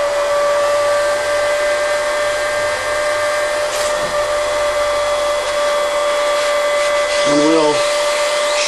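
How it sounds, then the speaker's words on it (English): A heat gun blows steadily on heat shrink wrap over a coax cable, a constant close whooshing hiss with a faint whine, and a brief voice near the end. "I'm using a heat gun here."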